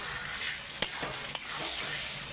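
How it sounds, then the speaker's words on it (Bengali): Chicken pieces being stirred into a spice masala in a pan, with a steady sizzle and a few soft scrapes and clinks of the spoon against the pan, close up with no talking. "এইবার মাংসগুলোকে আমি দিয়ে দিচ্ছি। মাংসগুলোকে দিয়ে একটু নাড়িয়ে চাড়িয়ে"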